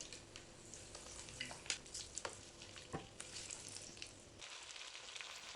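Meat searing in hot ghee in a pot, a steady close sizzle with scattered sharp pops and crackles, the spattering thinning out near the end.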